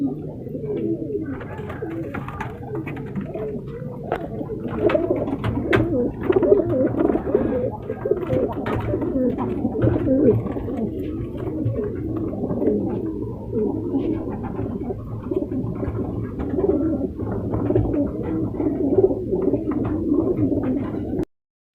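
Shirazi pigeons in a breeding pair, cooing steadily and repeatedly at close range, overlapping soft throaty calls that go on without a break.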